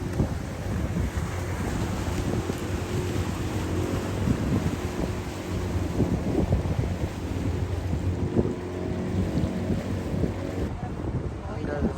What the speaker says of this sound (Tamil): இந்த போட் முன்னாடி